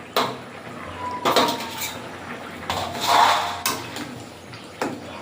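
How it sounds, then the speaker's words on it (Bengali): Fish and mustard paste going into a boiling curry, heard as several separate clanks and scrapes of a utensil on the pot, close and fairly loud, with the bubbling quieter in between. "এবারে মাছ আর সরষে বাটাটা দিয়ে দেবো"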